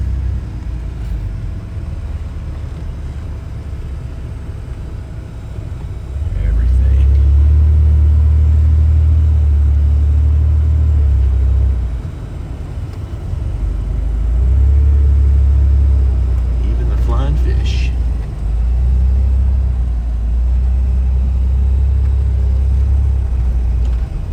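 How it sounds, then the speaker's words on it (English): Car traffic on city streets during a sleet storm in Little Rock rumbles past in loud, low waves, with passing engines swelling and fading over a steady road hiss. "Whole heck of a lot of traffic out here."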